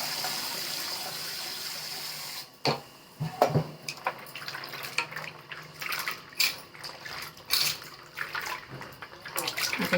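Water splashes and sloshes in irregular bursts as turmeric roots are rinsed and stirred by hand in cold water, close and fairly quiet, with short pauses between movements.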